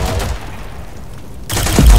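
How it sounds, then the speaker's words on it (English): Bursts of rapid submachine gun fire from a first-person shooter video game, loud and close, with a dense volley breaking out near the end after a quieter stretch. "Calm down, it's an SMG."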